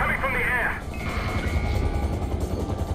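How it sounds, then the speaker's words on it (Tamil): A helicopter in a military shooter game thrums in with rotor chop and mechanical clatter, the whine fading after the first moment. A player's voice talks over the game sounds. "என்னடா ஹெலிகாப்டர் வரீங்களா"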